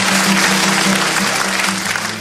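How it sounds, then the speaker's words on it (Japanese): Audience at a folk concert applauding, a dense and steady wash of clapping that carries on loudly for a couple of seconds before easing slightly. "温かいご同情の拍手をありがとうございます。"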